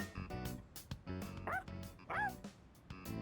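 A dog in the video game Persona 3 Reload gives a rapid run of barks, yips and whimpers, repeated several times in uneven bursts, close and fairly loud, with no talk over them.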